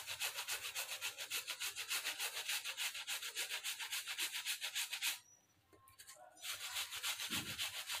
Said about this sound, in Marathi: त्यात आता ॲपल ग्रेट किसून टाकूया